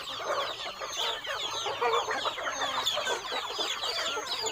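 A flock of domestic free-range native chickens clucks and chatters continuously on a farm, several birds calling at once at moderate distance with no talk.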